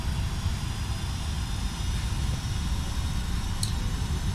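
A FlightFactor Boeing 757 freighter in UPS livery taxis on the ground in X-Plane 11, its engines giving a steady, even rumble at low idle, with one brief high click near the end.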